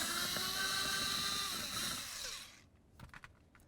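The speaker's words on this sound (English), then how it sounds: "Let's go ahead and use our Torx bit socket here." A power-driven Torx bit socket spins out a T27 Torx screw on a 2009-2020 Dodge Journey door, a loud steady whir for about two and a half seconds that cuts off, followed by a few faint clicks.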